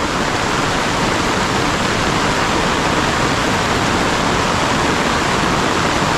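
Heavy rain pours down in the mountains, a dense, loud, unbroken hiss that stays constant throughout with no voices.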